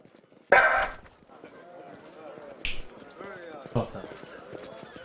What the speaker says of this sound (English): dog is being very barky today and I don't understand why